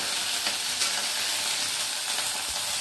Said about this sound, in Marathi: तेल जास्त तापलेलं आहे, थोडं उडू.